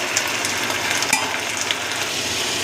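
Potatoes and cauliflower fry in a pan with green chilli, dried red chilli and onion, giving a steady, close sizzle with a few sharper crackles and pops scattered over nearly three seconds, with no talking.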